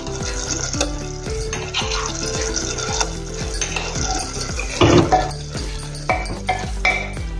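A spoon stirs garlic ginger paste into vegetables frying in a pan for carrot and pea pulao, making steady rhythmic scrapes and clinks over a constant sizzle, close and fairly loud, with soft background music and no talking.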